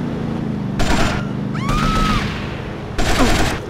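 Gunfire in the game GTA Vice City Stories: short bursts of shots and a whistling ricochet-like tone over loud, constant game background noise, close and harsh, with no speech.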